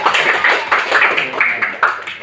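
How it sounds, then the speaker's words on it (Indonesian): A classroom of elementary school children clap for a classmate, a quick run of sharp, irregular claps lasting a couple of seconds, close and moderately loud. "Beri tepuk tangan untuk Ceko"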